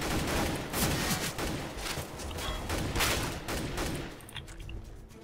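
Rapid bursts of automatic gunfire in Counter-Strike: Global Offensive, loud and near, with overlapping volleys and shots firing almost continuously for several seconds.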